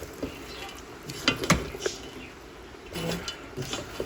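Toasted breadcrumbs and liquid get stirred together in a bowl for a Thanksgiving side, giving soft scraping and tapping of utensil against dish in a quiet kitchen, with a few brief louder knocks.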